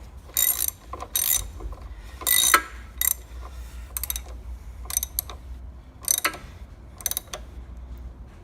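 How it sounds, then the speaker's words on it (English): A socket ratchet tightens an 8mm hex bolt on a Vogelsang RC5000M inlet macerator during a service. Loud, close, repeated ratcheting clicks come in short bursts of strokes with brief pauses between them, and nobody speaks. "that's just using an 8mm hex, so you can actually have it on a socket here. So just tighten that up."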